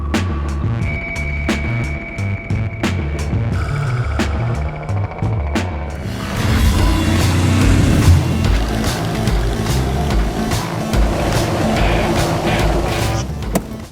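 A Mercedes-Benz G-Class 6x6 revs and accelerates hard with the gas pedal floored, a loud, rising engine roar that builds and swells through the second half amid road noise.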